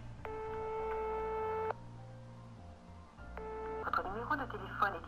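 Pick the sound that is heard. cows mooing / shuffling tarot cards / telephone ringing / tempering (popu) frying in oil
telephone ringing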